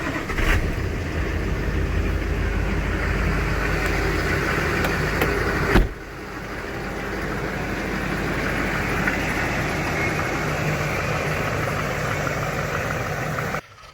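A Duramax truck diesel, with batteries running a little weak, fires up and settles into a steady, loud, close idle that continues unbroken for several seconds.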